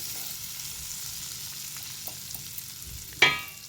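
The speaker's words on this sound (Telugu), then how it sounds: "ఫ్రై కానివ్వాలి." Okra frying with turmeric in a pan for a tomato curry, giving a steady, soft sizzle with a few faint clicks and one sharp utensil knock near the end. No one speaks.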